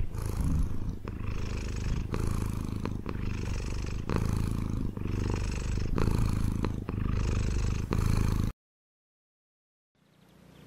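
A cat purrs close by in a steady, rhythmic rumble of repeated breaths for about eight seconds, then stops abruptly, followed by near silence. The cat lives on Gili Air island in Indonesia.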